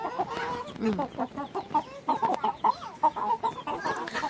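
Chickens and chicks cluck and peep close by on a farm as they feed and forage, a busy stream of short, choppy calls overlapping rhythmically without pause.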